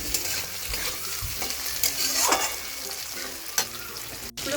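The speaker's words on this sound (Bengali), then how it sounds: "আগে থেকে কেটে রাখা টুকরো করে রাখা চিংড়িগুলোকে দিয়ে দিচ্ছি। একটু নাড়িয়ে চাড়িয়ে" Cut shrimp stirred and fried among browned onions in a pan, a close crackling sizzle with repeated spoon scrapes and stirring strokes, no voices.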